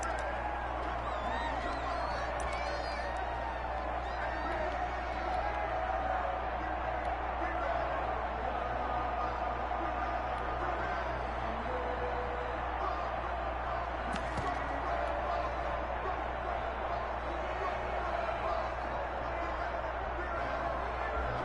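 A packed NFL stadium crowd before a Cleveland Browns versus Pittsburgh Steelers game, a steady dense roar and babble filling the whole stretch without letup.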